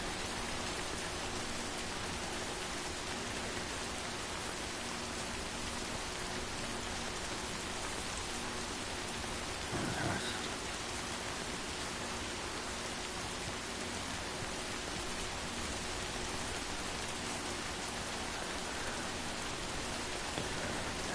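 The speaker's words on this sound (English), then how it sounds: "The rain's gonna end sometime." Steady, even rainfall in Skyrim, a soft continuous patter of drops on surfaces that holds evenly throughout with one faint bump midway, no voices.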